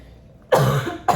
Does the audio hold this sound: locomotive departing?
no